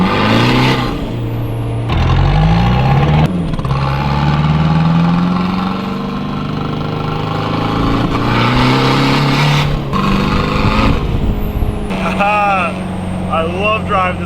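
A lowered stance car's engine, driven with the window open, drones loud and near. Its pitch climbs steadily in repeated sweeps through gear changes, with brief voices now and then.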